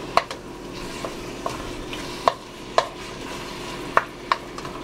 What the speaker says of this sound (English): you're just going to keep on stirring until the ground beef breaks down. So break it apart and stir.